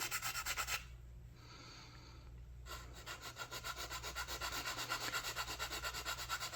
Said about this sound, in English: I'll go ahead and fill that and sand it off smooth.